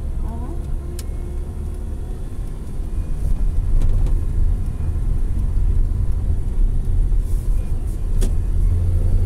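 Car engine rumbling steadily as a learner driver releases the brake and pulls away, the idle swelling into a louder drive-off with brief clicks, and talk briefly audible.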